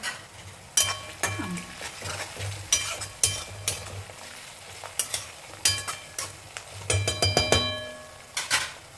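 Curry leaves sizzle in hot oil while poha is stirred, as a spoon knocks and scrapes against the pan in an uneven series of sharp metallic clinks over a soft, steady sizzle.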